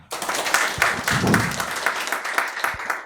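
Seminar attendees clap to welcome a speaker, a short, lively round of applause with distinct individual claps popping through, loud and close throughout.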